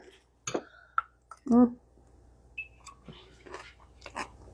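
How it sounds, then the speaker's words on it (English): Someone crunches on kefir ranch dip with sauerkraut in a few close bites and chews between them, with quiet clicks and small sounds in a calm room. "The sauerkraut adds a really nice crunch to it."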